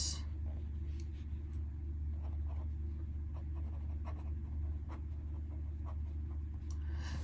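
A pen writes and underlines on paper, giving soft, intermittent scratching strokes close up over a steady low background hum.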